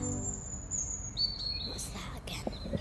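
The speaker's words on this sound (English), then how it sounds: "It's a robin." A robin sings in a garden, with thin high chirps and short whistled phrases that come and go over faint background noise and soft murmuring.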